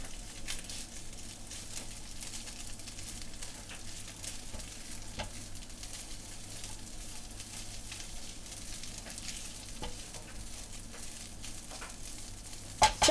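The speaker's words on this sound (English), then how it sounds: "turn up the heat to max and add the cooked pilau rice. Immediately stir through to coat for a minute or 2." Cooked pilau rice sizzles and fries with softened onion in a pan over maximum heat, a continuous low crackle with scraping stir strokes throughout, fairly quiet and without voices.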